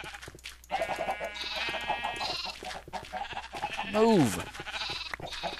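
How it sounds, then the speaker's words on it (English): Sheep in the video game Minecraft bleat repeatedly, with one loud, wavering bleat standing out near the end, mixed with someone talking over the game sounds. "stupid sheep."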